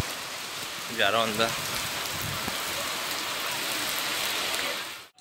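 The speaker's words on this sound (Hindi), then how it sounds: "बारिश बहुत है" Heavy rain pours down in a steady, dense hiss that fills the whole stretch, with someone speaking briefly near the start before the downpour carries on alone.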